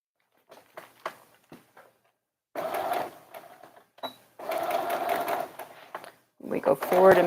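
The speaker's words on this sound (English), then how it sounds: "We're going to go ahead and sew around the outside edge" A sewing machine stitches around the outside edge of a little girl's dress, whirring in short bursts and then longer runs, with pauses and faint handling noises in between.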